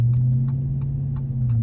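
A 2019 Dodge Charger R/T idles nearby with a deep, steady low rumble, and faint rhythmic ticking pulses sit above the drone at roughly regular intervals, with no talk over it.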